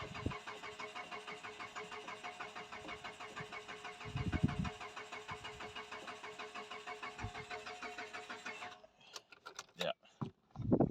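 Mitsubishi car engine cranking without catching, a steady rhythmic starter churn lasting several seconds before cutting off, followed by a few clunks and brief sounds.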